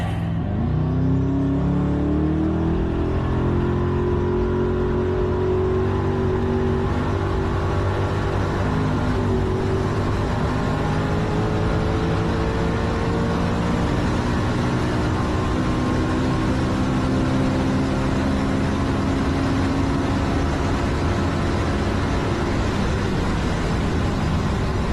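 A Koenigsegg Regera accelerates hard toward 250 mph, a loud continuous engine roar whose pitch climbs steadily and smoothly for nearly half a minute, with no talk.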